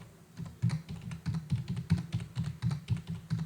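Fast, steady clicking of keys on a computer keyboard as values are typed in sequence, the close taps running in a brisk rhythm with no speech.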